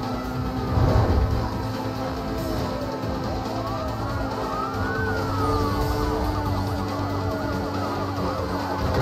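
Several police car sirens wail and sweep in overlapping rising and falling tones during a chase in Need for Speed Most Wanted, steady and loud over engine and road noise throughout.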